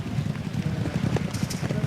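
Racehorses gallop downhill in a steeplechase, a quick, rhythmic drumming of hooves heard under a race commentator's voice.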